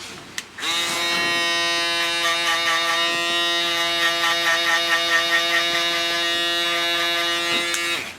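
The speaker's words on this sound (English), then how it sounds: "Next, going with the shaver." An electric shaver buzzes steadily and loudly while shaving hair during a buzz cut with an ice pick taper, starting with a click and running continuously with slight pitch wobble as it moves over the scalp.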